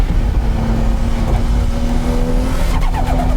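A Toyota Supra is driven flat out on a mountain pass course. Its engine roars loud and steady from close by, with a shift in pitch near the end and no talking.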